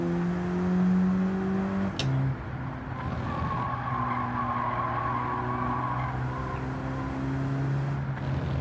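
A VW race car in Gran Turismo 7 with tires squealing at the limit of grip, a sustained tonal screech over the steady engine drone, rising and shifting pitch through the corner.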